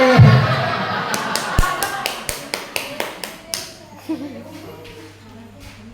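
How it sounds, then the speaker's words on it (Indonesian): A group of primary school teachers at a training session does a salute clap: a quick run of about a dozen evenly spaced, crisp claps, then quieter scattered taps, with light laughter and voices in the room. "Tepuk beri tepuk salut."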